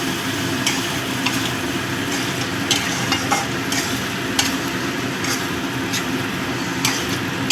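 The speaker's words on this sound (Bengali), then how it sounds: "এটা দিয়ে ভালো করে কষিয়ে নেব সব মশলাগুলো" Spices fried with a splash of hot water for Bata fish jhal, a continuous close sizzle under repeated spoon-stirring scrapes and occasional sharp clinks against the pan.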